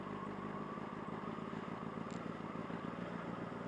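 A motorcycle's engine and exhaust rumble steadily during a slow ride downhill under a 20 mph limit on an evening road, a low, even drone heard from the rider's position.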